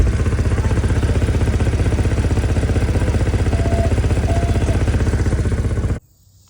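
Car engine running steadily with a rapid, even ticking pulse typical of an exhaust manifold leak, loud and close for about six seconds before cutting off abruptly, with no talking.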